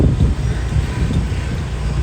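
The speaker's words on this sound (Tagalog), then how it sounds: "sarap na hangin malakas hangin no?" Gusty wind buffets the microphone with a low, rumbling rush that swells and dips over a couple of seconds.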